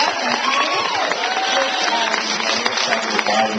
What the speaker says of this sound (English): Can we get a round of applause for Team Canada?